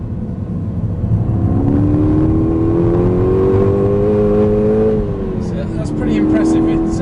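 A 2010 Seat Leon Cupra R accelerates hard from inside the cabin, engine note climbing steadily for several seconds, easing briefly, then rising again as the revs build, loud and close.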